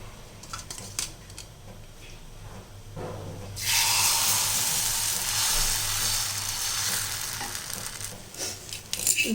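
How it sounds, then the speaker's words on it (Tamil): Wheat flour dosa batter hits a hot dosa griddle after a few quiet seconds, then sizzles steadily and loudly, close by. "இப்போ நம்ம வந்து தோசை ஊற்றிடலாம்"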